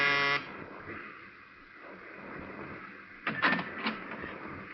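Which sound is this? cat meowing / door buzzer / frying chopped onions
door buzzer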